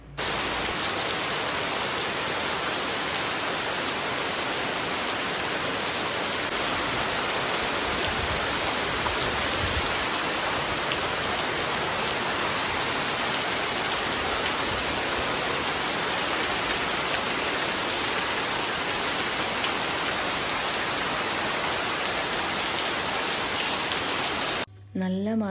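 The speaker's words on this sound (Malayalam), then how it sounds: "ഇന്നിവിടെ ഭയങ്കര മഴയാണ് കേട്ടോ" Heavy rain pours steadily outside a house, a dense, loud, unbroken hiss of drops drumming on surfaces that runs the whole time and cuts off abruptly right at the end.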